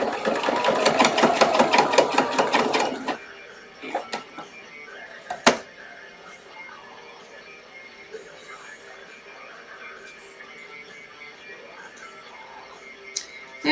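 A sewing machine stitches a Victorian evening dress in one loud, rapid, even run of stitches lasting about three seconds, then stops, leaving faint clicks and handling noises in a quiet room.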